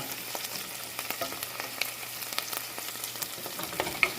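Onions sautéing in a pan for Filipino bistek, a steady close sizzle with scattered crackles and light stirring taps, continuous and without talk.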